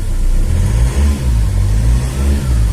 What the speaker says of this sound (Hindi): स्टार्ट हो गया गाड़ी हमारा।